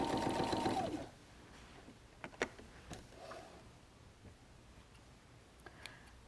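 A sewing machine back stitching a messenger bag runs in a loud, steady burst for about a second, then stops, followed by a few sharp clicks and light handling ticks.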